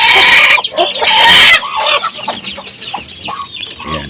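Native hens clucking busily at close range in a brooding coop, with a loud burst of squawking at the start followed by scattered, overlapping clucks.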